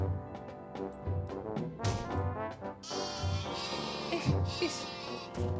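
Repeated sheep bleats from the video game Mini World: Block Art ring out over a steady bed of game music, several short cries spaced through the stretch with a few louder calls near the end.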